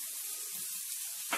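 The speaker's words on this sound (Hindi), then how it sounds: "इसमें हम थोड़ी सी स्प्रिंग अनियन डालेंगे" Spring onions dropped into a hot pan of paneer chowmein sizzle steadily at close range, ending in a brief louder burst of frying.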